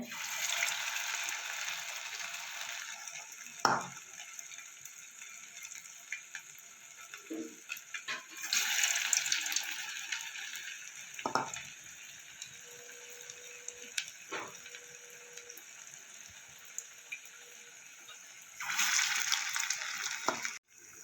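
Soybean fritters fry in hot oil in a pan, bursts of loud hissing sizzle at the start, middle and end with quieter bubbling and occasional clinks between, heard close with no speech.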